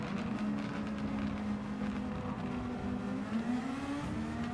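Race car engine in Gran Turismo 7 during a Nations Cup round at Monza near the Lesmos, droning steadily loud with shifting pitch as it holds under engine braking and pulls back up, with no talk.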